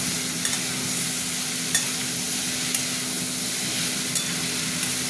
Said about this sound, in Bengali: আবারও ভাজবো কিছুক্ষণ।